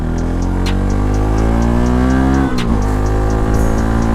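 A modified Bajaj Pulsar NS 200 motorcycle engine roars loud and close on a high-speed run, holding a strong steady tone with a brief dip around the middle as the throttle shifts, then pulling hard again.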